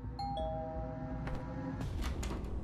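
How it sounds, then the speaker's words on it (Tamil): A doorbell chimes twice in quick succession, followed by brief rustling and knocking noises against a low background hum. "யாரு இவ்வளவு அவசரமா காலிங் பெல் அடிக்கிறது?"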